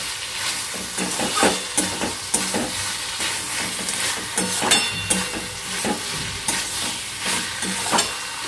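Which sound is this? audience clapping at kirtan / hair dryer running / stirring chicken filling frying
stirring chicken filling frying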